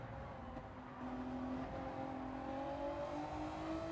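Race car engine in a racing video game at the St. Croix circuit, a steady high whine holding and rising gradually as the car accelerates, loud and continuous with no talk over it.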